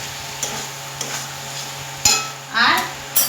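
Poppy seed, green chilli and melon seed paste being stirred in a pan, with a few scraping spoon and pan clatters and a brief soft sizzle, close and moderately loud.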